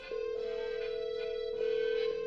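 A telephone ringing in the science-fiction noir adventure game Lacuna, a steady electronic ring tone sounding continuously at moderate volume with slight pulses, no voices present.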